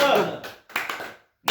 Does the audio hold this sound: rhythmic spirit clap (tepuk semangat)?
yes